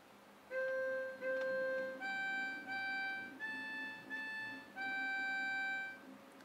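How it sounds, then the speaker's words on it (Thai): A toy keyboard piano set to its violin voice plays a short melody of sustained, bright, reedy electronic notes, about eight held tones with brief gaps, close and clear with no talking. "ก็อันนี้เสียงไวโอลิน"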